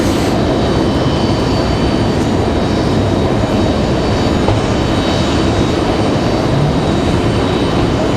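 An airliner, a Delta flight from Minneapolis, landing at Raleigh-Durham airport, with a loud, continuous broadband engine roar that holds steady throughout, close and alone.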